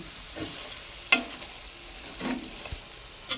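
A chicken and tamarind-leaf curry simmers in a pan, giving a soft, continuous sizzle with a few brief scraping clinks from a spoon as it is stirred.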